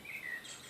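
A brief, faint grasshopper-like chirping, high and thin, played electronically at low volume from a children's sound book for under a second.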